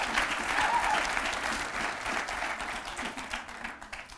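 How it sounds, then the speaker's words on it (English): Sustained applause from an outdoor audience at a wind farm dedication in Arizona, a broad wash of many hands clapping that fades gradually over four seconds, with no talk over it. "Give yourselves all a round of applause for making this happen"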